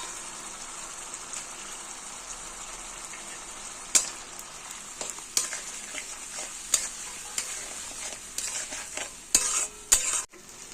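Spices sizzle steadily in hot oil for a green banana kofta curry, a constant close hiss broken by sharp scrapes and taps of a utensil stirring through the pan, growing busier toward the end.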